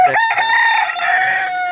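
A rooster crows once, loud and close, a long strained call that trails off.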